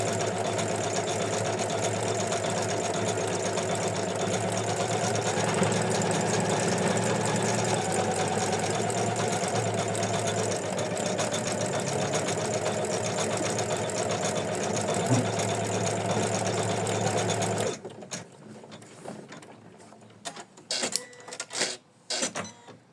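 An embroidery machine stitches an ornament with a steady, rapid mechanical chatter that runs evenly for about seventeen seconds, then stops, leaving a few scattered clicks and handling noises.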